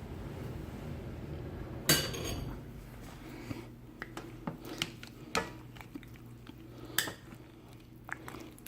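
A spoon stirs food inside a crock pot: a few scattered metallic clinks and soft scrapes against the pot, quiet and close, with stretches of low room hum between them and no voices.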